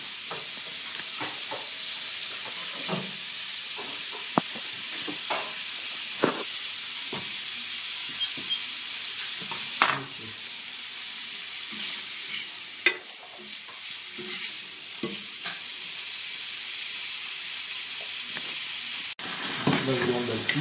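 Ground beef sizzling steadily in hot oil in a pan while being stirred, with irregular scraping and clacking of the utensil over the continuous frying hiss, close and fairly loud throughout.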